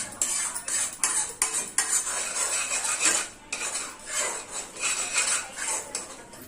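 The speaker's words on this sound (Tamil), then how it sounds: "எண்ணெய் காஞ்சதும் இந்த அடித்து வச்ச முட்டையை இதில் சேர்த்து நல்லா" Beaten egg scrambled in hot oil in a kadai, with a metal spoon or spatula scraping and clattering against the pan in quick, steady strokes throughout; close and fairly loud, with no talk.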